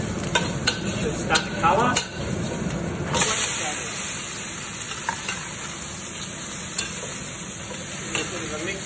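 Garlic fries in a smoking-hot, salted wok for chilli crab, giving a steady close sizzle with scraping and stirring clatter throughout while someone speaks.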